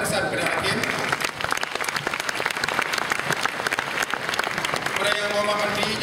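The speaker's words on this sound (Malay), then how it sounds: "sekali lagi kita beri tepukan gemuruh kepada barisan Perdana Hakim" Dense audience applause at a debate competition final, many hands clapping steadily, with a voice speaking over it near the start and end.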